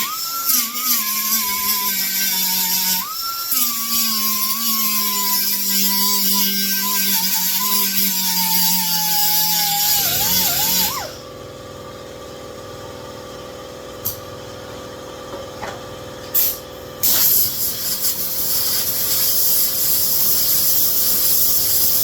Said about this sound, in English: air compressor is going to kick on.